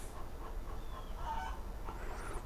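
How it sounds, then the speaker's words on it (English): Backyard chickens making a loud to-do after laying an egg, with repeated honking, squawking calls heard at a moderate distance over a low steady background hum. "my chickens laid an egg because they're making a"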